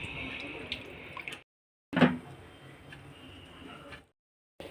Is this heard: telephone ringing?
no